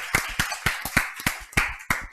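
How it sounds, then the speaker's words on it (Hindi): Students in a classroom accounting lecture clap for Adarsh, eight or so sharp, evenly spaced claps, close and fairly loud against a quiet room. "बेटा आदर्श के लिए ताली बजाओ प्लीज यार"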